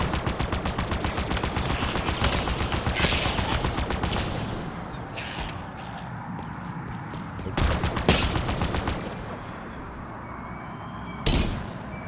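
Halo Infinite gunfire: dense rapid weapon fire crackles for the first few seconds, followed by quieter scattered shots and two sharp louder bursts later on, all in continuous game noise.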